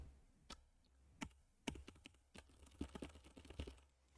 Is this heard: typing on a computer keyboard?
yes